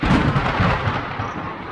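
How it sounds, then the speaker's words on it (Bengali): A loud, close thunderclap from a storm in a Bengali horror audio story, rolling into a deep, rumbling crash that fades slowly, with no talk over it. "প্রচণ্ড জোরে একটা বাজ পড়ল, সাথে দু এক ফোঁটা বৃষ্টি।"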